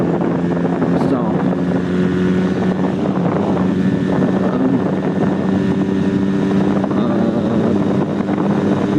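A Honda Rebel 250 motorcycle rides along on a winter road, its engine droning steadily beneath heavy wind rush buffeting the microphone, with a rider's voice murmuring over it at points.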